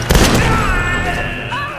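Rifle fire in the Tomb Raider video game: a loud cluster of rapid shots at the start, trailing into ringing game effects.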